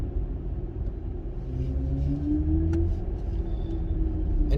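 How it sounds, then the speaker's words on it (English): A 2022 BMW iX xDrive50 electric SUV plays its synthetic Hans Zimmer drive sound while cruising, a low steady hum with a slowly rising tone layered over road rumble inside the cabin. "I hope you can hear that pretend pumped in Hans Zimmer iconic sound"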